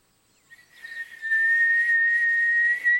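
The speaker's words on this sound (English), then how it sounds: "I can whistle." A person whistles one steady, clear held note for about two seconds after a brief breathy start, fairly loud and close with no other sound.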